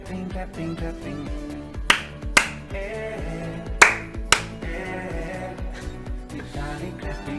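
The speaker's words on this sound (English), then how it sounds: "Vitalik clapping, clapping," A handful of crisp, snappy claps, two close pairs, pop out over upbeat electronic music playing underneath.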